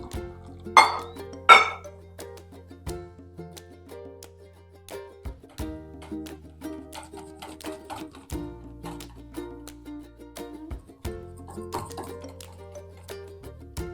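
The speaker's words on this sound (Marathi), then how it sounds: "मी हातानेच फेटतेय" Milk-thinned pohe batter is beaten by hand in a bowl, producing a long run of light, irregular clinks and soft taps against the vessel, with a low steady hum underneath.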